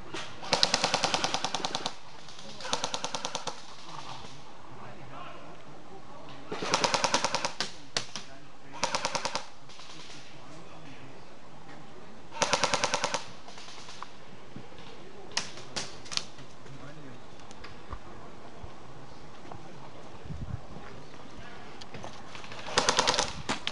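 Airsoft guns fire in rapid automatic bursts during an outdoor war game, several sharp rattling volleys separated by quieter stretches with scattered single shots and faint background voices.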